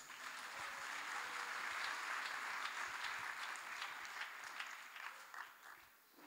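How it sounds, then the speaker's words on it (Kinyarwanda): A church congregation applauds together, a fairly faint, continuous wash of clapping that lasts several seconds before thinning out at the end. "Komera Imana amashyi."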